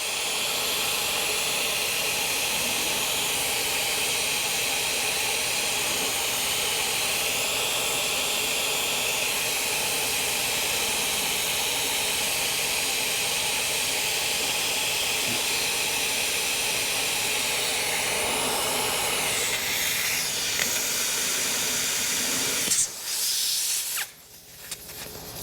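Compressed air rushes steadily into a new BFG HD Terrain KT truck tire being mounted on a tire machine, a loud continuous hiss that holds for over twenty seconds before cutting off near the end.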